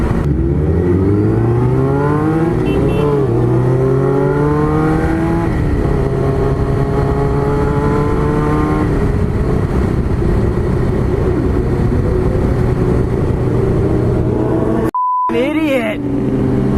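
Motorcycle engine revving hard and accelerating through gears during a wheelie past police, loud and close with rising pitch sweeps, a rider's voice briefly heard and a short beep near the end.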